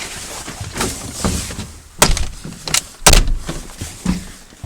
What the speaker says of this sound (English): Come on, shut the door.